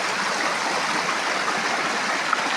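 A river stream flowing steadily nearby, a constant broadband rushing and burbling of water with no talk.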